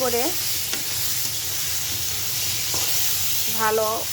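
Chopped tomatoes sizzle steadily in a hot frying pan while a spoon stirs them, giving a continuous close hiss with brief scraping touches and a few faint voice-like tones.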